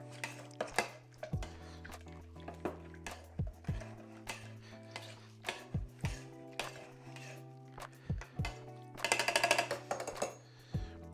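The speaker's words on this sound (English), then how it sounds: "you're gonna proceed to muddle. Let's make sure that we break all those nice kumquats" Kumquats and thyme are muddled in a glass for a vodka cocktail, giving repeated thuds and knocks with clinking glass. The sound turns to a busier, denser clatter toward the end.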